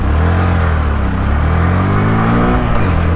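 A Honda Grom small motorcycle engine revs loudly and close by, a steady, buzzing roar that holds for about three seconds with no voices.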